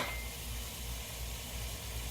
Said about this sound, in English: Shrimps are bubbling.